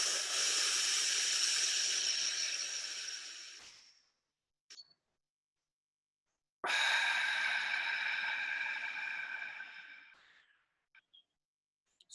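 Two slow, controlled breaths in a small cycle breathing demonstration, each a long airy hiss of about four seconds, close to the microphone and separated by a short silence, with no talking.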